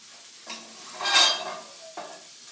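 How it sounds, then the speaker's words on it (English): Chorizo fries in a pan with a soft sizzle while a utensil stirs it, a brief scraping swell in the middle and a couple of light clicks. "So here we have our chorizo going."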